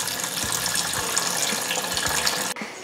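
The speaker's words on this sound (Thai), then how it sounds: "แล้วก็มารองน้ำแร่ค่ะนี่เลยนะคะ" Mineral water pouring into a pot for cooking Thai sour curry, a steady close gush of running water that stops abruptly near the end, with no talking.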